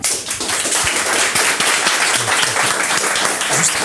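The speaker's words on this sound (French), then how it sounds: "Je vous demande un tonnerre d'applaudissements pour Pivi Nova." A studio audience gives a dense, steady round of applause welcoming the guest PV Nova onto a French evening show, the clapping continuous and loud for several seconds.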